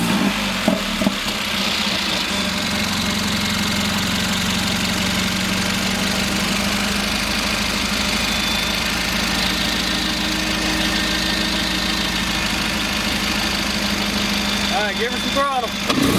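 A straight-piped Mercedes CLA45 AMG fires up for the first time and settles into a loud, rumbling idle that holds steady throughout, with a voice briefly heard near the end.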